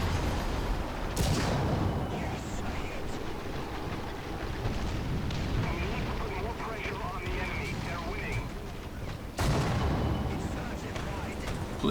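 Artillery shells land in a War Thunder tank battle, with two sharp, heavy booms standing out over a rumbling, noisy battlefield din, and a player talks over it.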